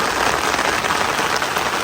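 Rain pouring down outdoors, a loud, dense, unbroken hiss with no voices over it.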